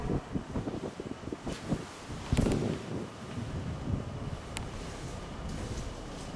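Strong, cold wind blows steadily in a continuous rushing buffet against the microphone, rumbling and gusting with no voices heard.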